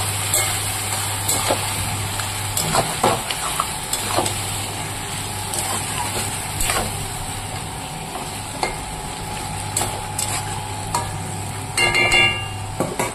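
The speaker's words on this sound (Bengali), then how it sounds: "এবার মাংসটাকে আমি ভালো করে নাড়াচাড়া করে তারপরে ঢেকে দেবো।" Meat fries in a pan while being stirred, a steady close sizzle broken by repeated sharp scraping and clattering strokes of the spoon, with a low mechanical hum underneath and no talking.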